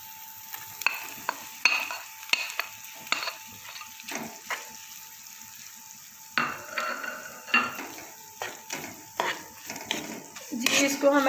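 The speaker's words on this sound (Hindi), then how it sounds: "अब इसको हम लहसुन के पेस्ट में जो है वो मिक्स करते हैं।" Shredded boiled chicken is stirred into garlic paste in a pan, giving repeated scraping and clinking strokes of a spoon against metal with soft sizzling between them, close and fairly quiet, no speech.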